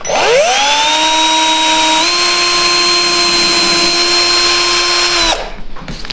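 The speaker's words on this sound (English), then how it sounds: "When you're ready to drill the holes, make sure to hold your drill straight up and down." A power drill bores binding holes through a stack of journal pages, its motor whining steadily at a high pitch for about five seconds before spinning down and stopping, close to the microphone.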